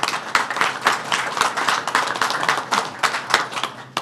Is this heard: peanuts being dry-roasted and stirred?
no